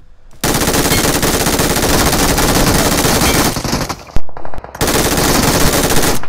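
Loud, continuous automatic gunfire in a shooter video game, rapid rattling bursts close up that pause briefly near the end and then resume, with no talk.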